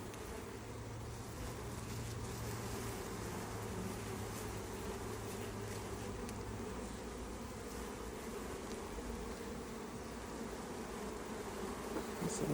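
A dense, steady buzz of many honey bees swarming close by at an open Langstroth beehive, continuous and unbroken throughout with a low hum underneath.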